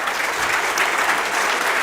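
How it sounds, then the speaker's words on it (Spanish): A seated audience at a sustainability report presentation breaks into loud, sustained applause, a steady dense wash of clapping filling the room with no pause. "Pido un fuerte aplauso"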